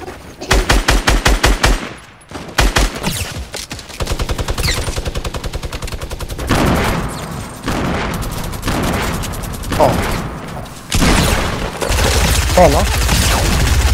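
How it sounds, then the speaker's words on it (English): A minigun in the Fortnite video game fires long, rapid bursts of close, loud automatic gunfire, broken by short pauses and mixed with other shooting, while a player's voice briefly speaks over it. "I got a minigun back."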